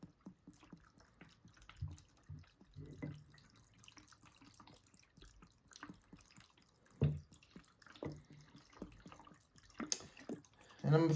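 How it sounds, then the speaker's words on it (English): Everclear grain alcohol poured into a jar packed with nettles, a faint liquid trickle with scattered drips and small glassy knocks, quiet and close, with occasional soft handling sounds. "I'm gonna fill it almost all the way with Everclear"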